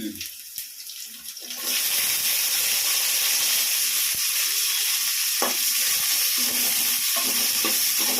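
Garlic, dried red chillies and onion sizzle loudly in hot oil in a home kitchen pan, a steady hiss that surges up after a quieter start and carries on with small pops and clinks.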